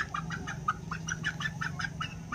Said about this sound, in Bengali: আমি মুরগি বার করছি